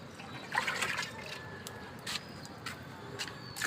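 Water, about two gallons, is poured into a homemade potassium fertilizer mix of soaked banana, splashing and trickling in close uneven bursts with brief gurgling surges.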